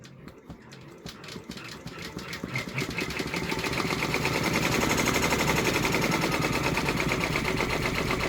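A Brother embroidery machine stitches out an OESD gingerbread village freestanding bridge design, its rapid needle chatter building into a loud, steady mechanical rattle that runs continuously without talk.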